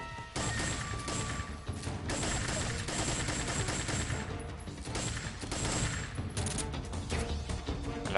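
Sustained gunfire in the stealth-action video game Metal Gear Solid 3, with rapid bursts and crashing impacts over a dense game soundtrack. The firefight stays loud and continuous with no talk.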